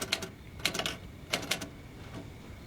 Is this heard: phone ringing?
no